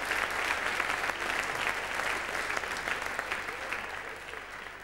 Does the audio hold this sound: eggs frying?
no